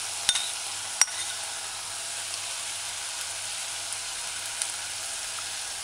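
Finely ground garlic stir-fried in a pot with a cooking spoon for chicken callaloo stew, giving a steady, even sizzle throughout with a few sharp spoon taps near the start.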